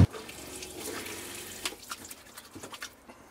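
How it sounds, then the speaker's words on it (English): Water from a push-button tap runs into a camper van sink, a steady close splash that stops partway through, leaving scattered drips and small clatters. "if I release the button, the water stops"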